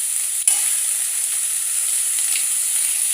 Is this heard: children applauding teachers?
no